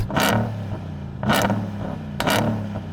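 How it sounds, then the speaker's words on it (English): A Hennessey Mammoth engine revs three times in quick succession, each blip rising sharply then dropping back to a rumbling idle, close and loud. "I'm going to rev up the Mammoth"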